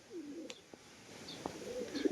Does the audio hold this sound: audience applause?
no